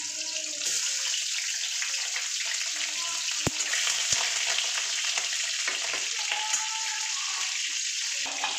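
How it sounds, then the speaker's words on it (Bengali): Ginger and garlic paste frying in a pan, a steady close sizzle and crackle running throughout with a few sharp clinks of a utensil against the pan. "আর দিয়ে দিলাম একটু রসুন বাটা। এগুলোকে ভেজে নেব।"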